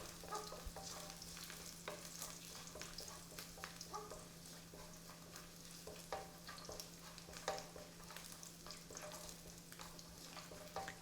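Spices being stirred in a hot pan for chicken curry, giving a steady soft sizzle with scattered scraping clicks of the utensil, close and continuous, with no talking.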